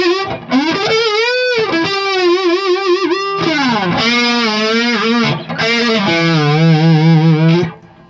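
Electric guitar played with the tremolo arm through distortion and chorus effects, loud sustained notes swooping and wavering in pitch, with a couple of brief breaks, no talking.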